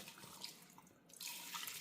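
Water is poured into a pot of mutton for Hyderabadi haleem: a soft, steady running splash, faint and close, with no speech.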